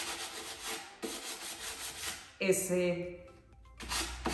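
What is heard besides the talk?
light hand sanding of a Jesmonite piece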